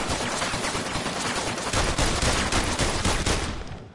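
Fireworks outside in the VR video game The London Heist: a dense, continuous barrage of crackling bangs, loud and steady throughout, fading slightly at the very end.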